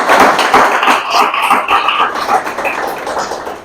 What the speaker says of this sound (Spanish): Aplaudan al Señor